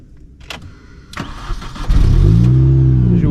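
A Mini Cooper S R53 engine cranks with a few short clunks and clicks, then catches and fires into a loud, steady idle, with no voices.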